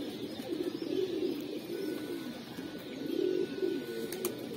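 A teddy pigeon coos close by in low, throaty phrases, one swell near the start and another stronger one later, over a quiet steady background.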